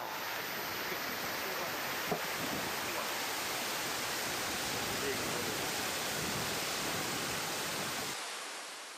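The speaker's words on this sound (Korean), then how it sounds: "진짜 소금산에서 물이 떨어지면서 폭포가 막 쏟아지는데" A heavy, steady roar of pouring water from a waterfall off a salt mountain in the Iranian desert, close by, constant throughout before cutting off near the end.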